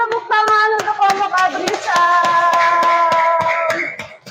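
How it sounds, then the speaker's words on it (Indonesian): Classroom of students giving a group a round of applause, sharp rhythmic hand claps repeating at a steady pace with children's voices chanting along underneath. "beri tepuk tangan untuk kelompok"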